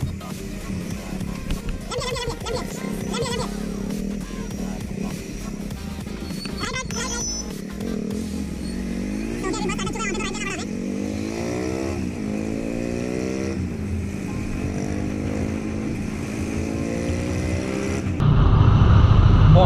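A Bajaj V15 motorcycle ridden along a road during a fuel mileage test, its engine droning steadily with rising and falling revs, wind rush and passing traffic around it.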